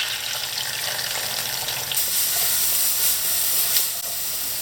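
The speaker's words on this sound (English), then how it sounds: "once it's hot, you can start adding your plantains in to fry" Plantains fry in hot oil with a continuous, close sizzling hiss that swells briefly as they are stirred around.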